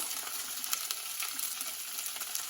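Vegetables fry with masalas in a pan, giving a steady close sizzle with light crackles and faint scrapes as they are stirred, heard alone without talk.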